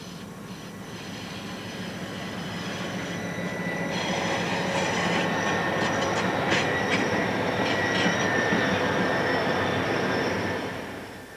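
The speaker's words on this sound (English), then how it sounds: "Two more engines are in back, pushing the train up the steep hill." A long freight train with helper engines pushing at the rear climbs a steep hill, rumbling past steadily with grinding wheels and faint squeals, growing louder midway, then easing slightly at the end.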